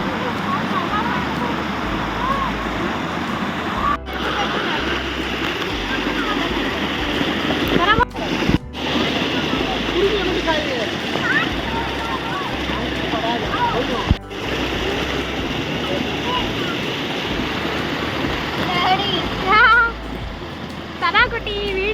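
Water at Erawan waterfall in Thailand rushes and splashes in a loud, unbroken wash close by, with people talking over it.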